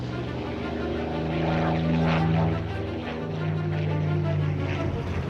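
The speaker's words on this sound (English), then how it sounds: "the RAF deploys its latest fighter plane, the Supermarine Spitfire" Supermarine Spitfire fighter plane engine drones steadily, a loud sustained propeller roar that swells briefly in the middle, in wartime archival footage.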